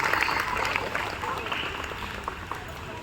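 An audience claps continuously to welcome a guest onto a stage, a dense, even roar of applause filling the whole moment.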